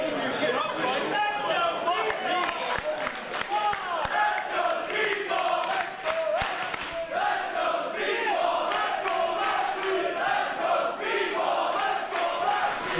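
Wrestling crowd roars and chatters continuously, urging on Speedball Mike Bailey during his match against Bobby Lashley; loud, dense arena noise with rising cheers and scattered shouts throughout.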